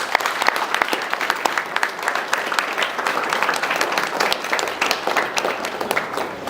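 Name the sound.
audience applause for students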